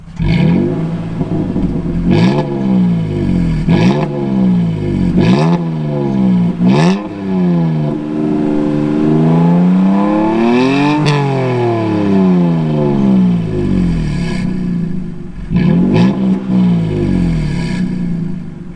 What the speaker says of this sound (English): So now I'll get you guys a quick little video of it revving up.